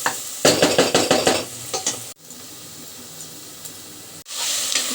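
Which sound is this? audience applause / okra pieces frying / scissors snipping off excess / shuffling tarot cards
okra pieces frying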